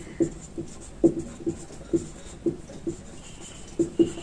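A physical science test paper solution is written out by hand, pen on paper making a string of soft, close scratching taps at an irregular pace, with no talk over it.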